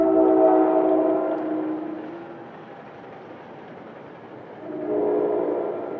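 An NJ Transit train sounds its horn, with a sustained blast at the start and another near the end, and a quieter rumble of the passing train between them.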